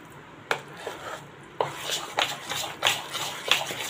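Moong dal batter is whisked in a bowl for crispy pakodas, with a series of quick scraping, tapping strokes against the bowl, close and fairly quiet, coming in uneven bursts.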